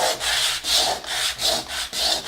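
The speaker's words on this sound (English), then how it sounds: "now I'm going to sand it" Rough-grit sandpaper scrubs over dried paint on a wooden board in steady back-and-forth strokes, about five close, loud passes with brief pauses between them.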